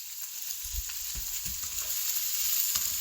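Onions cook down in salted butter with a gentle, steady sizzle and a few soft low stirring thumps, close by and quiet.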